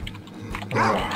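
A dog in the Garry's Mod video game makes a short burst of sound, with brief clicks and a louder noisy stretch in the second half.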